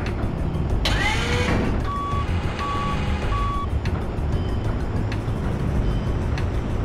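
Reversing beeps from a vehicle in Shenmue, three evenly spaced electronic tones over a constant loud engine rumble, following an earlier squealing whine.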